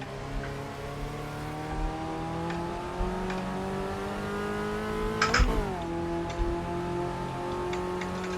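A small race car's engine drones steadily while lapping Brands Hatch in AMS2, its pitch climbing through each gear and then dipping sharply at a shift midway, close and continuous with faint ticking over it.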